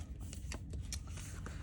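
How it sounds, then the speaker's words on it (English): Quick succession of papery flicks as pages are riffled, several crisp short snaps close by over a quiet background. "Let's just flip through it real quick."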